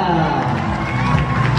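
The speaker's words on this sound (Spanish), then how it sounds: "¡Fuertes los aplausos!" A festival crowd at a corn festival claps and cheers as a young woman is welcomed on stage, lively continuous crowd noise with voices mixed in throughout.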